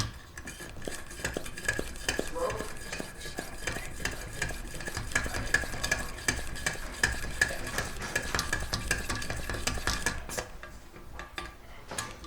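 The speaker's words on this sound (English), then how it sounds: "Open the pump one full turn and stroke it 25 times." Steady rhythmic clicking and rasping strokes, close up, as the fuel tank pump of a Coleman backpacking stove is worked, repeating for several seconds, with a metallic squeak running through them.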